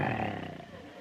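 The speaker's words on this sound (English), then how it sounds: "the air was rent by the roar of a lion" A lion's deep, throaty roar rolls out in one sustained call and fades within a second, close and full-bodied, as part of a jungle night scene.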